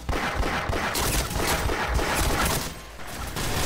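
Gunfire in the video game Half-Life, with dense, loud overlapping shots and chaotic bursts filling the whole stretch, including pistol fire amid the combat noise.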